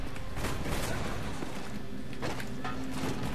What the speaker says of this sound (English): People shooting at me and I don't know where they are.